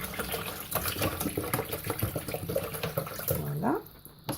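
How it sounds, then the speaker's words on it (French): Vinegar poured into a basin of water during cold-process soap making, with a steady splashing trickle of liquid that fills the scene, then a short rising gurgle as the pour ends. "Dans l'eau, dans ma bassine d'eau, je vais ajouter du vinaigre."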